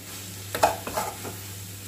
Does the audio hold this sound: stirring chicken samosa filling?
yes